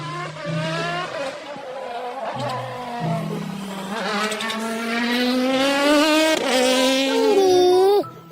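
Toy race car sound effect, with high wavering engine-like whines that rise and fall and hold steady throughout, loud and close, with a brief squealing sweep near the end.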